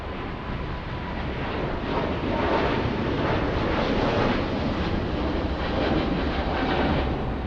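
A Cathay Pacific Boeing 777 roars down the runway on takeoff at LAX, a broad, steady jet engine rumble heard from a distance without any voices.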